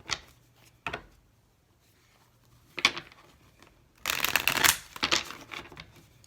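Tarot cards being shuffled close by: a few brisk riffles and taps, then a longer flurry of rapid shuffling near the end.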